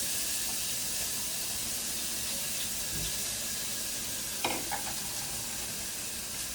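Chopped onion hitting hot oil for a mutton curry, giving a steady soft sizzle with a few scraping stirs of a spoon partway through, faint and close with no talk.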